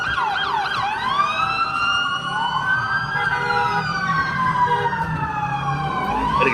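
Loud police sirens wail close by, several overlapping sweeping tones rising and falling continuously with no pauses.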